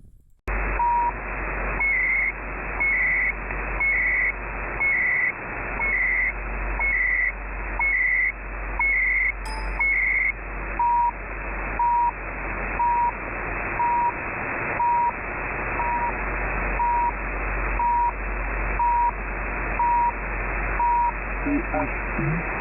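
Shortwave radio hiss in sideband mode with a steady hum underneath, punctuated by regular electronic beeps that shift pitch partway through, with faint garbled voice-like modulation.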